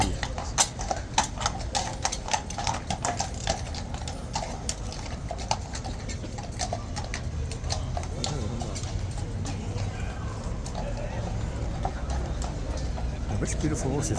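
Horse hooves clip-clopping in a steady, uneven rhythm on hard ground as a mounted guard horse passes, sharp knocks standing out under a continuous crowd murmur and traffic-like rumble, with people talking nearby.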